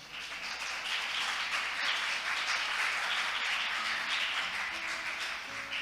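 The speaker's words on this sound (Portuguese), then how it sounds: "aplauda bem forte o nome do Senhor." Church congregation applauding during a Wednesday family worship service, a soft, sustained spread of many hands clapping at moderate distance, roughly six seconds long, fairly even throughout with faint scattered tones underneath.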